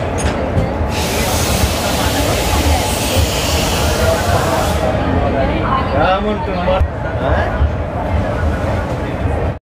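Ambience at Gwalior railway station: a loud, continuous rush of train and platform noise with hissing, rumbling and scattered voices, steady throughout before cutting off abruptly at the end.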